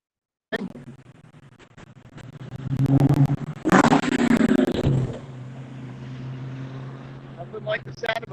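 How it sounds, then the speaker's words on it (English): A 5-liter Ford Mustang at a rolling evening car show: a steady engine rumble that swells into a loud revving pass and then settles back to a lower drone, with talk over it. "Nothing like the sound of a 5-liter Mustang."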